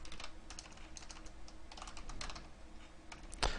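Typing on a computer keyboard, quick irregular clusters of soft key clicks close to the microphone, with a sharper clack near the end and no talking.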